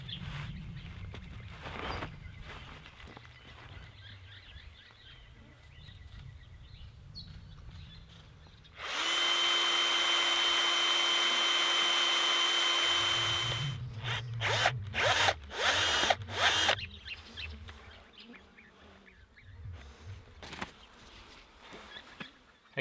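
Power drill whirring steadily for several seconds while working a stuck bolt at a remote national park campsite, followed by scraping, clanking tool handling and faint bird calls in the background.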